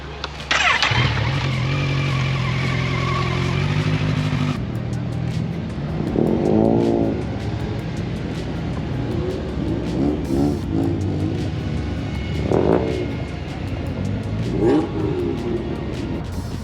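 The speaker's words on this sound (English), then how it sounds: "Okay, so we're driving through the pits." A car rolls slowly through the pit lane at the Japfest 2024 show at a circuit, its engine humming steadily with a few brief revs and surrounding noise, loud and close throughout.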